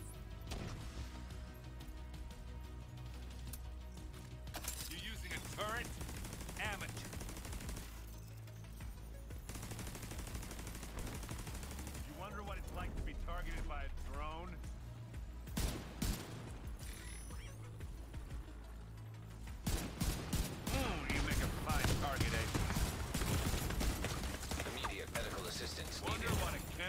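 Turret gunfire in the video game The Division 2, New York setting: sustained loud bursts of automatic fire run through most of the stretch, intensifying near the end with clustered sharp shots, mixed with game sound effects and a voice talking.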